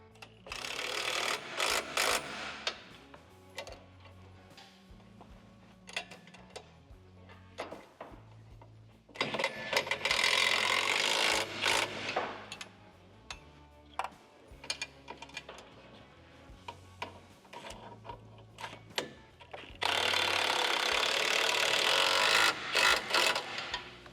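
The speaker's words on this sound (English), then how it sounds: "we will tighten this till this back aluminum washer deforms to the curved surface here" Skid plate bolts being tightened with a socket wrench on a 2020-or-later Ford Super Duty, repeated rapid ratcheting clicks in bursts of several seconds separated by quieter pauses, close and clear.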